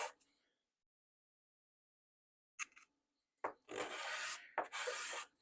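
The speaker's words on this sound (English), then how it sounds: "then we'll get the sanding on that rim." Short bursts of rubbing with 320-grit sandpaper on the rim of a Peterson Tankard pipe, a brief scrape first, then after a pause two longer rasping strokes, close and dry, no talking.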